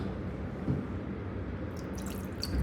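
Steady running water drains and splashes continuously from a particle size analysis apparatus, with occasional drips and gurgles over a low, constant rush.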